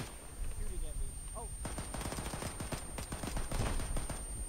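Rapid bursts of automatic gunfire in a video game rice paddy assault, a rattling fusillade of close, fast shots that kicks in after a quieter opening with a faint voice beneath.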